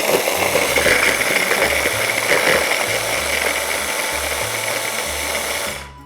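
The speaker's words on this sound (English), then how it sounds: "you just break the bread into small pieces into the food processor" A food processor whirs loudly and steadily as it grinds broken bread pieces into crumbs, the motor humming evenly before cutting off at the end.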